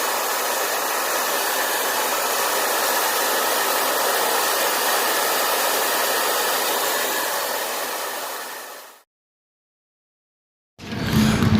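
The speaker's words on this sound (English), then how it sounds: "I may blow it out a little more with the hair dryer" Steady, loud whooshing roar of a hair dryer blowing over an epoxy tumbler, holding constant for about nine seconds before cutting off, then briefly starting again.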